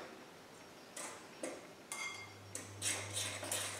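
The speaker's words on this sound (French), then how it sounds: "Mélangez avec votre fourchette la préparation" Fork mixing pizza dough ingredients in a bowl, a few faint, irregular clinks and scrapes of metal against the bowl, close and quiet.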